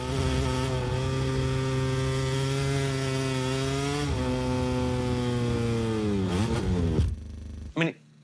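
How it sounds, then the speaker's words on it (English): A racing motorcycle engine recorded onboard holds a steady, high-revving buzzing note for about seven seconds, its pitch dipping and shifting near the end before cutting out, followed by a brief separate burst of sound. "Again, listen to the note of the engine."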